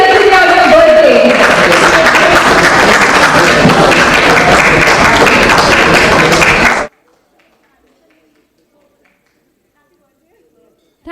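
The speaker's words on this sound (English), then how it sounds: "A big round of applause and loads of blessings for being here today on your birthday" A birthday guest at an event on visual challenges and educating children gets a loud round of applause with some cheering, about seven seconds long before it cuts off to silence.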